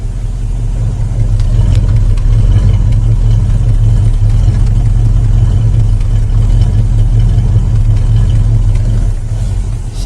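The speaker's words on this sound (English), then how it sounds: "And it starts pretty well and it sounds really good. Even idles." A 1966 Ford Mustang engine idles close by with a steady, loud, deep rumble that holds evenly throughout.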